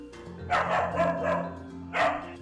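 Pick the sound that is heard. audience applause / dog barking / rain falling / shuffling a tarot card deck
dog barking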